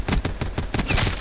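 Several sharp gunshots in a first-person shooter, loud and close, fired in a quick uneven burst of five or six reports with no talk.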